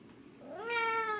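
A house cat lets out one rising, drawn-out meow close by, clear over a soft indoor background hum.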